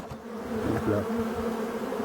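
Honeybees buzzing in mid-October around healthy hives during orientation flights, a steady dense hum of many insects close by, continuous throughout with no talking.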